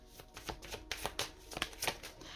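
Tarot cards shuffled in the hands, a run of crisp riffling bursts and soft slaps at close range, about seven or eight strokes in a steady rhythm with no voices.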